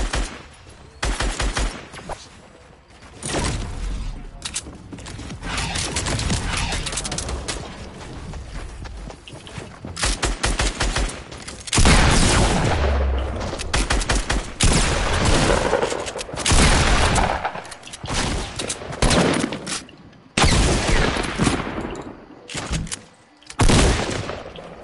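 Dense, repeated gunfire from a Fortnite squads match, rapid bursts and single shots packed closely across the span with loud impacts and a few booms, mostly without talk over it.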